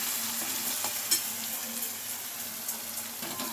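A ground spice paste being stir-fried in a pan for taka chi kadi gives a steady, moderately soft hiss of sizzling with faint scraping of the spoon running through it, no voices.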